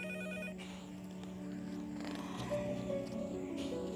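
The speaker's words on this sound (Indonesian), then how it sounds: "Ada telepon, Bu." A telephone rings indoors in a household scene from an Indonesian TV drama, a steady electronic ring with sustained tones lasting several seconds at moderate level.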